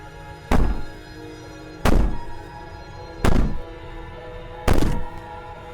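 Heavy banging on a door in the video game Slay the Princess: four loud, evenly spaced thuds over a quiet hum, each one booming and fading quickly.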